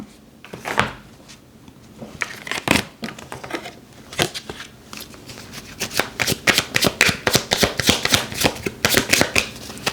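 Tarot cards shuffled by hand during a reading, a run of crisp, close riffling and slapping bursts that start sparse and grow into a fast, dense rhythmic clatter toward the end.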